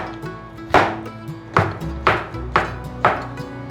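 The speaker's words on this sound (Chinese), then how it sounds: "把鲜香菇切碎" Knife on a cutting board chopping fresh shiitake mushrooms, five crisp sharp strikes at uneven intervals, close and clear with no talk.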